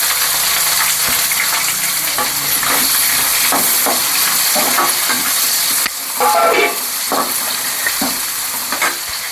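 Onion, curry leaves and garlic frying in hot oil for a spicy Tamil kara kuzhambu, a steady loud sizzle with stirring scrapes, and a louder burst of sizzling partway through as more onion goes in.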